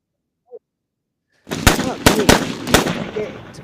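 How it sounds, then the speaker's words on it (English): After a brief faint sound and a silent gap, gunshot sound effects of an M16 and an AK-47 crack out as several sharp, loud shots in quick succession, each ringing into a short echoing tail. "Let me get the gunshots out just for you"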